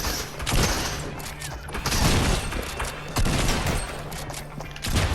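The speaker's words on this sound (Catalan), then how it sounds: "T'estàs disparant amb gent?" Dense, busy gunfire and impacts in Fortnite, with overlapping bursts and thuds that come in waves, loud and continuous.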